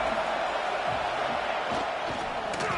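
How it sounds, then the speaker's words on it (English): Football crowd noise at an Auburn game swells into a steady, loud roar of cheering behind the defense on a third down, dense and continuous throughout with scattered shouts on top. "Big third down as the crowd gets behind this defense."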